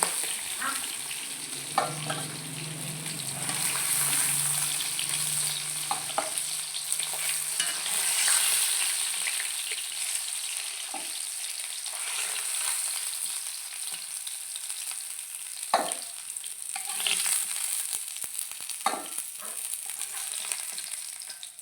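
Pangas fish pieces sizzling and frying in hot oil, with a steady close crackle and occasional stirring or scraping sounds; no talking.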